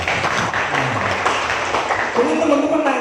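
Applause from an audience at a village youth organization gathering in East Java, a brief dense patter of clapping heard under a speaker's voice.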